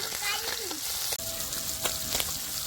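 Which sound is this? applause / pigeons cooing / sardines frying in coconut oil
sardines frying in coconut oil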